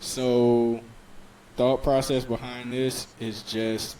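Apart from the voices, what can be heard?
No everyday noise stands out behind the speech.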